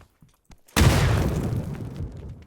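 A grenade blast in a multiplayer shooter game erupts loudly after a moment of near silence, a single heavy boom whose rumbling tail fades over the next couple of seconds.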